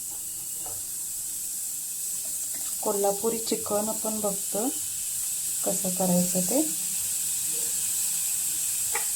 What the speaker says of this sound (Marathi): तर त्याच्यामध्ये आधी कांदा आपण भाजून घेऊया